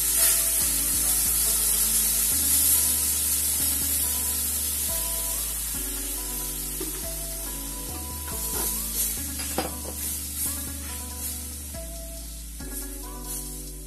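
Milk is poured into a hot pan while making moong barfi, setting off a loud, steady sizzle and hiss with occasional stirring scrapes against the pan, close up and without talk.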